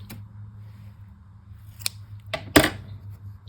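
Scissors cut through crochet yarn: a faint snip, then one sharp, close snip, over a low steady hum with no talking.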